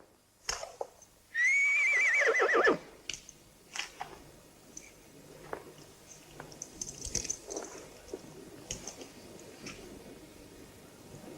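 A horse in a western film lets out one loud, shrill whinny near the start, followed by softer shuffling, chewing and scattered clicks.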